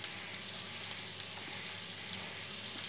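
Chopped onion frying in a pan for white sauce pasta, a steady close sizzle with faint crackles running throughout, no voices.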